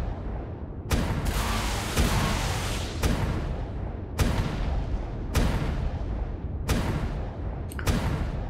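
Sniper gunfire in the video game ARK: a series of loud booming shots, roughly one per second, each with a long echoing tail that blends into a continuous rumble.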